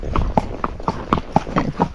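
A Tennessee Walking Horse named Zorro clip-clops along a roadside, hooves striking in a quick, steady four-beat rhythm, close and distinct with no talking.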